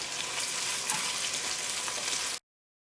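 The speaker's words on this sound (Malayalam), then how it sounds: "ഇതെല്ലാം കൂടിയിട്ടൊന്ന് വഴറ്റാം" Ginger and curry leaves sautéing in a hot pan for a soya potato curry, a steady dense sizzle with faint stirring scrapes, close and continuous for over two seconds before cutting off abruptly.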